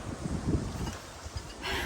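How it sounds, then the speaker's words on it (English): Gusty wind buffeting the microphone in uneven bursts outdoors, with a louder rush of wind noise near the end. "It's literally so windy."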